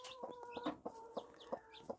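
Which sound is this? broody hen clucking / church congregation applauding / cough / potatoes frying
broody hen clucking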